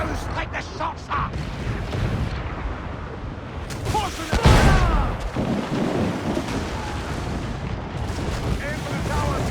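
Mortar and cannon fire booms through a naval battle in Assassin's Creed IV Black Flag, with a big blast near the middle over constant rumbling, crackling and shouting voices.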